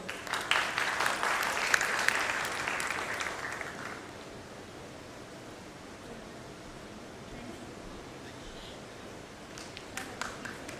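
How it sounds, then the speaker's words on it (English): A burst of clapping from an audience fills the first few seconds, then fades into a soft, steady room hiss with a few scattered claps near the end. "Please give a big applause to sir."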